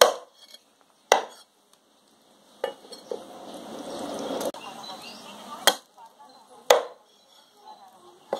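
A knife cuts fresh fish with several sharp taps against a board, spaced irregularly, and softer scraping and rustling between them, close and clear.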